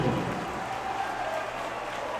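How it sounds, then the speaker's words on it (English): Basketball crowd at the Ford Center in Evansville, steady roar of cheering and clapping filling the arena, loud and sustained without a break. "The crowd is alive here at the Ford Center."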